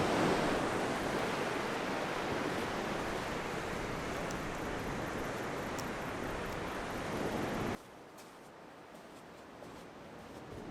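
Ocean surf at low tide on Secret Beach in Mallacoota gives a steady broad wash of waves that drops abruptly to a quieter hiss near the end, with no talking.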